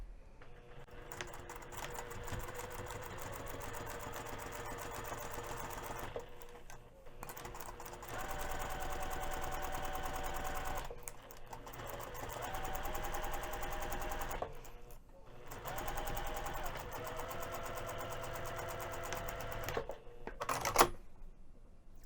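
A sewing machine stitches tote bag lining panels together in long continuous whirring runs broken by short pauses, with a clack at the end, close and moderately quiet.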